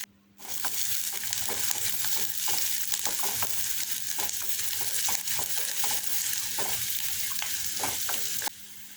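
Chopped onion and curry leaves frying in oil after mustard seeds splutter, for a Kerala-style long bean and prawn thoran, a constant loud sizzle with repeated stirring scrapes and taps, close by and without speech.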